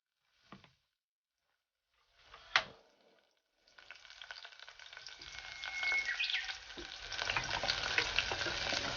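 Garlic and ginger hit a hot pan with a couple of brief spatters, then settle into a steady, building sizzle that grows louder and denser toward the end, with no voices over it.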